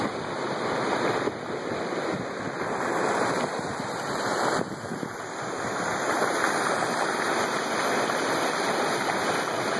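A stream of water runs strongly past an undercut, crumbling bank, making a steady, loud, broad rushing roar that stays unbroken throughout, with no voices.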